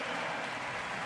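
Brief steady clapping from the American wheelchair rugby team after the bronze medal final at the London 2012 Paralympics, a dense distant patter of hands mixed with arena noise.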